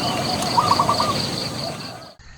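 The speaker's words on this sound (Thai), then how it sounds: "ได้ยินเสียงหลิวตันขัน" A red-whiskered bulbul sings a short, bright warbling phrase outdoors, heard over steady background ambience before the sound cuts off.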